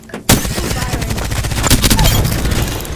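Loud, close automatic gunfire from Apex Legends erupts suddenly after a quiet moment and keeps up as a rapid, dense volley to the end.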